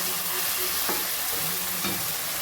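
Peas and rice stir-fried in a pan for chicken biryani, with a steady sizzle and a couple of soft scraping stirs from a spoon, close and moderately loud, no talking.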